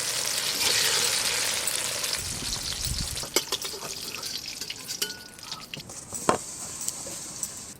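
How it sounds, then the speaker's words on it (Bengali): Eggplant slices fry in hot oil in a home kitchen, a steady loud crackling sizzle with scattered sharper pops and spits throughout, no voices over it. "বেগুনগুলো এত নরম দিদি, দেখো গরম তেলে দেওয়ার সাথে সাথেই ভাজা হয়ে গেল"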